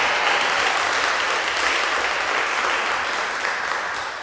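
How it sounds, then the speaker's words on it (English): A church congregation gives the returning choir a round of applause, a full, even burst of many hands clapping that holds steady and then begins to taper off. "A round of applause"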